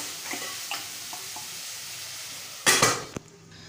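Quiet sizzling of vegetables cooking in a pan with a few soft scrapes, then a louder clatter of cookware near the end.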